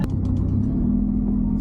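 A Honda CR-Z rolls along with a steady low engine drone and road rumble from inside the cabin, a sustained hum following a brief sharp knock at the start.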